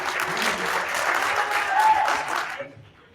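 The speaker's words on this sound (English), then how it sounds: "Round of applause for Con Summer." Audience applause at a live music conference event in Wisconsin, a dense burst of clapping for about two and a half seconds that then quickly dies away.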